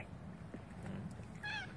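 A large house cat gives a single short meow close by, over a steady low background hum.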